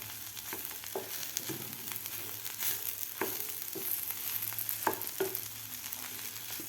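Potato thecha with coriander is stirred in a pan: soft frying sizzle under a string of spoon scrapes and knocks against the pan at an uneven pace, close and fairly quiet.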